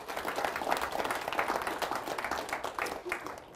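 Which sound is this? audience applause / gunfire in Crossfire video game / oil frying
audience applause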